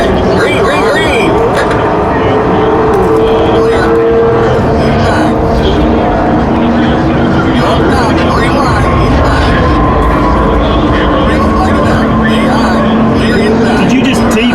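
Race car engine roaring through a hot lap of Talladega in a racing simulator, a loud continuous drone with shifting pitch that holds steady throughout, with people talking over it.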